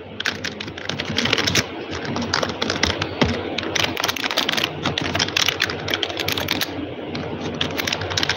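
Keys on a computer keyboard are tapped in a steady, close run of quick clicks with no pauses, during a Windows reinstallation.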